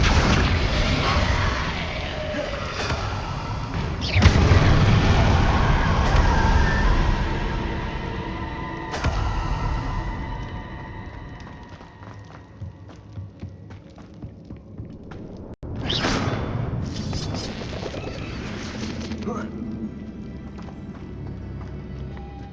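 Spell effects from the video game Hogwarts Legacy crash and boom in repeated bursts, swelling and fading loudly over about twenty seconds with sharp impacts and rumbling tails.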